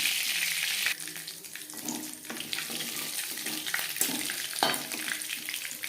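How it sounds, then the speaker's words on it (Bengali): Panch phoron spices fry in hot oil in a kadai that earlier fried prawns, giving a steady close crackling sizzle with a few sharp pops and stirring knocks. "পনেরো 20 সেকেন্ড পাঁচফোড়ন ভেজে নেওয়ার পর"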